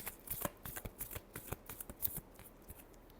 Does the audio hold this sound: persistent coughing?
no